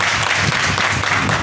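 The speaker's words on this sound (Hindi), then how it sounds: "जोरदार तालियां उस्ताद पाले" Loud, dense applause from an audience at a live music program, a continuous wash of clapping filling the whole moment.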